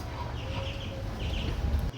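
Ten young Chinese duck chicks give soft, repeated high peeping calls in short bursts over a steady low background hum.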